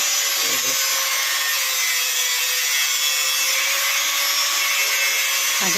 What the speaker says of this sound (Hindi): ये देखिए अपना ड्रिल मशीन चला के